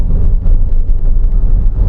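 Honda Freed engine revving, heard as a loud, rough low rumble with steady throb and some wind buffeting on the microphone, no voices.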